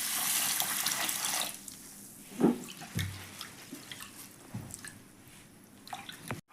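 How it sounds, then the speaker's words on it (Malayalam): Water poured and used for washing in a home kitchen, a strong running-tap rush at first that gives way to scattered drips, splashes and handling sounds nearby. "വെള്ളം ഒഴിച്ചിട്ട് കഴുകാം"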